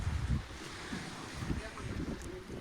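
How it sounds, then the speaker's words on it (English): Ocean waves lapping near a dock at Icy Strait Point, Alaska, a soft washing surf mixed with wind buffeting the microphone, faint and continuous. "I really like listening to the waves"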